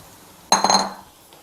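Paneer for a shahi mutter paneer gravy set aside into a bowl, making one sharp dish clink that rings briefly before fading in a quiet kitchen.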